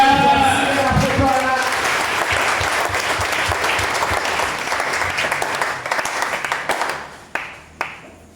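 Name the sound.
church congregation applauding the Lord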